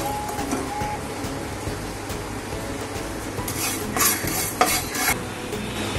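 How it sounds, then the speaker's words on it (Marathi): Cumin, bhagar and sabudana dry roasting in a pan, heard as steady close scraping and stirring of a spatula through the dry grains, with a soft rasping texture and a few louder scrapes near the end. "हे जिरं आहे ते थोडंसं भाजून घेऊया"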